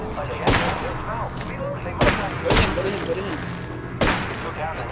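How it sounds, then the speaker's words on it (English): Gunfire in the video game Apex Legends comes as several sharp, punchy shots and impacts spaced a second or two apart. The shots sit over a busy bed of game sounds and faint voices. "I am taking fire, friends."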